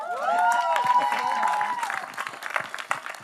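A crowd of journalists at a web series trailer launch bursts into applause and cheering, loud at first and then thinning into scattered claps, with a voice briefly rising over the noise.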